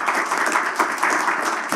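A forum audience in Chungcheongnam-do claps together in a dense, steady burst of applause that fills the room at an even level, with no one speaking over it.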